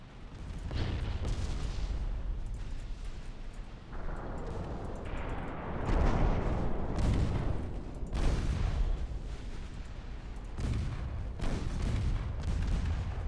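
Naval gunfire and torpedo hits in the Ultimate Admiral Dreadnoughts warship game, loud repeated booming salvos and rumbling explosions rolling over one another without pause for the whole stretch.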